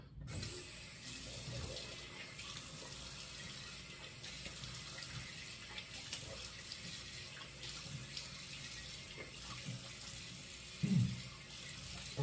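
A bathroom tap runs steadily at low volume before a face shave, a soft continuous water hiss with faint splashes and a small knock near the end, no voices.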